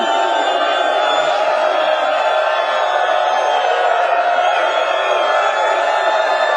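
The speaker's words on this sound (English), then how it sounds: "What an amazing crowd." A live studio audience at the ESPN First Take show roars steadily for several seconds, a dense, loud wash of cheering and whooping with no breaks.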